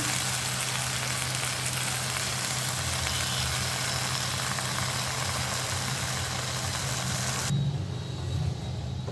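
Fresh garden Malabar spinach cooking with fish in a pan, a dense continuous hiss and sizzle with a low steady hum underneath, the sizzle dropping away abruptly near the end.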